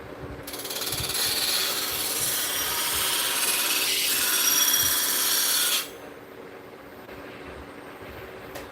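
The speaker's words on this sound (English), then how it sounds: "bust out one of my favorite tools, itty bitty detail spindle gouge" An itty bitty detail spindle gouge cuts wood on a lathe while contouring a big bowl, giving a steady, close, hissing scrape for about five seconds before cutting off to a quiet motor hum.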